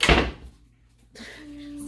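A door bangs shut at home with a sharp, loud thud at the start, followed by a fading decay, near silence, and then a quiet room hum with a faint steady tone.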